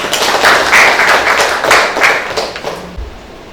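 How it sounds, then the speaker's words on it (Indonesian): A classroom of accounting students claps once for a classmate, a short burst of hand clapping lasting a few seconds, fairly loud and close, with a soft thump near the end. "Sekali tepuk tangan buat Andes."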